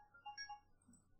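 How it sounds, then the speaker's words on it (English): A mobile phone rings briefly with a faint melodic ringtone of a few bright electronic tones, heard quietly for about a second. "Oh, sorry, that was my phone."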